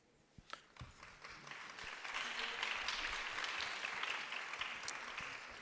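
An audience breaks into applause that swells from a few scattered claps into steady, fairly distant clapping and holds at a moderate level.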